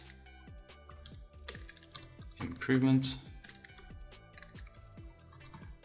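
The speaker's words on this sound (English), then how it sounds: "Typing is not going well." Rapid keystrokes on a computer keyboard clatter in an irregular, steady patter, close and fairly quiet, while a person speaks briefly over the typing.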